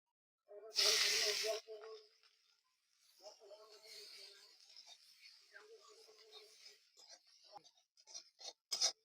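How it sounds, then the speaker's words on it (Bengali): Chopped onion drops into hot oil in a pan, with whole garam masala, a bay leaf and a chilli, for an egg malai curry: a loud burst of sizzling at the start, then a quieter crackling fry with a person talking over it. "এখন দিয়ে দেবো পেঁয়াজ কুচি"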